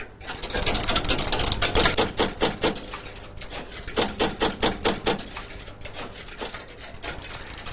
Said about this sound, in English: what you can see here is the machine is now loading its program into the memory stores